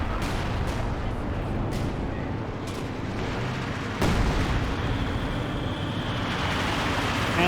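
Dense, continuous rumble of an artillery barrage in the Company of Heroes 2 strategy game, with distant booming impacts layered under battle noise and a louder crack near the middle.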